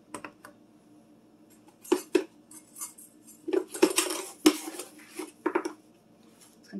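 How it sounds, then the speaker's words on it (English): Sugar going into a measuring cup for cranberry muffins, heard as a series of close clinks, scrapes and rattles, irregular and bunched, with quiet gaps between. "I'm going to put my sugar into here."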